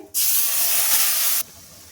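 Ginger, green chili and tomato paste hits hot oil in a wok with one loud, close, sudden hiss that holds steady for just over a second and then cuts off, with no talk.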